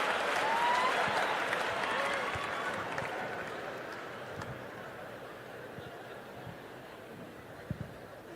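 Comedy club audience applauding after a dark joke in a stand-up set, a broad wash of clapping that starts full and slowly thins out, with scattered chuckles and crowd murmur underneath.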